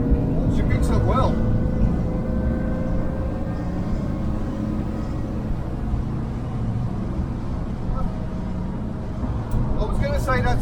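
Volkswagen Split-window Kombi van accelerating on a highway, a steady loud engine drone with road rumble throughout, with someone talking over it.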